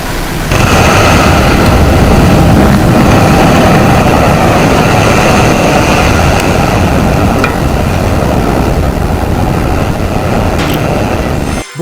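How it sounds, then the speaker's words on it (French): A rocket lifts off with a deafening, continuous low roar that begins abruptly and holds at full strength for about ten seconds before cutting off, with no talking. "Je vous laisse donc profiter avec Polly du décollage"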